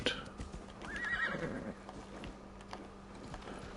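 Horse in Assassin's Creed Valhalla neighing with a rising whinny, followed by hoofbeats and faint game ambience; fairly quiet and close.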